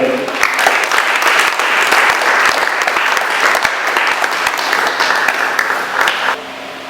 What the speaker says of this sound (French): nous vous prions de l'applaudir fortement